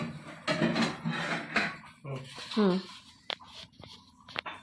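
An iron kadhai is handled in a home kitchen, giving sharp metallic clanks and clinks of pots and utensils between and beneath several people talking nearby.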